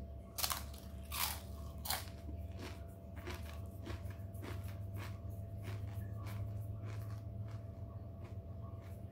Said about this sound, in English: I'm going to chew on it because I think that's fair.